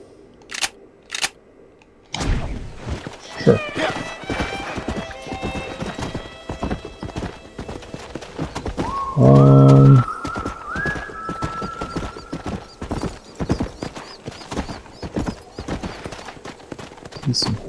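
Horse hooves clip-clop at a steady gait in a Western open-world game, with a horse whinnying midway. Occasional sharp clicks and a brief tonal game sound are also heard.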